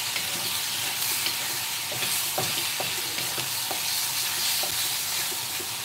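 Spicy turkey stir fry with noodles and beansprouts sizzles in a pan, a steady loud frying hiss close by, broken by occasional scrapes and taps of a wooden spatula stirring, with no talk.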